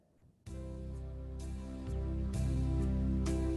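A keyboard plays a simple, gentle backing pattern with sustained chords and a soft steady beat, starting after a brief quiet moment.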